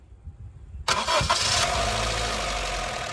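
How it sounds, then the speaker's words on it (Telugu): A 2014 Honda City V petrol car starts on a single crank with a sharp burst, then settles into a steady, close idle that continues to the end, with no voices. "ఇప్పుడైతే మీకు ఒకసారి వెహికల్ స్టార్ట్ చేసి చూపిస్తాను"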